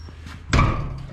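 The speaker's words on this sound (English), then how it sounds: "gonna close this door so we don't whack our head." A cab door on a Minneapolis Moline A4T tractor swings shut with a single loud, close slam and thud, followed by a brief low rumble in a quiet workshop.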